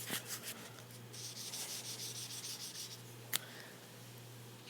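A pencil scratches across paper at close range in short rubbing strokes, soft and steady over a low background hum, with a small tap partway through.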